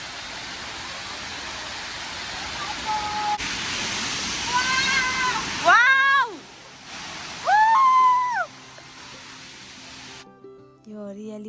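A waterfall and stream in a green forest in Japan give a broad steady rush of water for several seconds before it drops away, followed by short exclamations and tonal sounds.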